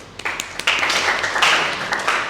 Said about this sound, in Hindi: पारो के लिए भी तालियां भाई।